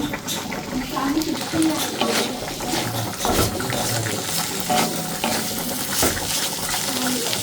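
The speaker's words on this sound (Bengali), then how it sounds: "এ পাশে ডাল রান্না করা হচ্ছে" Dal cooks while potatoes fry in a pan on a home stove, with continuous sizzling and busy stirring scrapes and clinks close by throughout.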